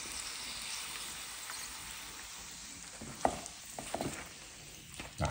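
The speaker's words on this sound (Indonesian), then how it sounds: "Jadi ini untuk teknik menggoreng setengah matang" Half-cooked bakso meatballs fry in hot oil with a constant, bright sizzle and crackle. Toward the end there are occasional louder pops and scraping stirs.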